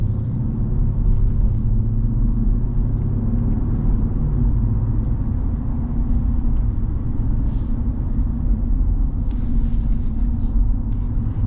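A 2024 Ram Rebel GT pickup truck engine accelerating, heard as a steady, heavy low rumble and whir from inside the cab with no speech over it.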